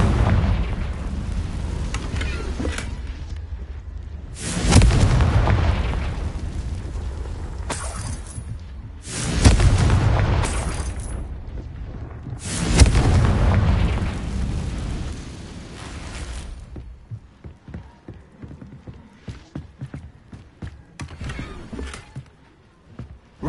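Booming fire-spell blasts from the Confringo spell in the video game Hogwarts Legacy. Three heavy explosions go off several seconds apart over a rumbling game soundscape, which fades to quieter scattered effects at the end.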